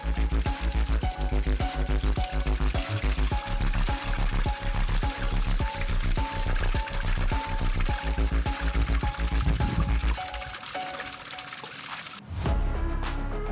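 Tap water streams onto soda-can turbine vanes, a loud steady pouring rush with rapid rhythmic clatter from the spinning vanes, cutting off briefly near the end before the flow resumes.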